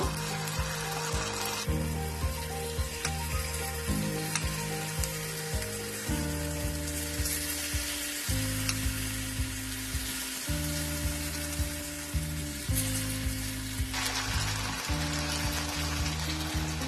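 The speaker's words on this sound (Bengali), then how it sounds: "কড়াইয়ের মধ্যে সাদা তেলটা গরম হয়ে গেছে। একটা একটা করে বেবিকর্ন গুলো দিয়ে দেব।" Baby corn frying in hot white oil in a wok gives a continuous crackling sizzle, with a steady low hum running underneath and no talk.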